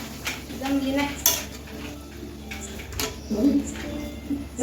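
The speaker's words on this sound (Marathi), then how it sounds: "त्याच्यामध्ये थोडस पाणी टाकून जरा हलव" Egg curry being stirred in a pot with a little water, giving a steady run of metal utensil scrapes and clinks against the pot, with a couple of sharper knocks, close and moderately loud.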